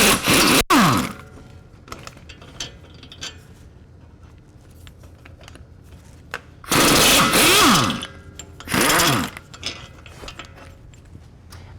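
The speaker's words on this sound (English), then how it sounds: "If you use a impact universal socket like this, you can get at all 3 of them relatively easily." An impact wrench with a universal socket rattles out 18mm hub bolts during a wheel hub bearing job, three short loud bursts separated by quiet gaps, close up.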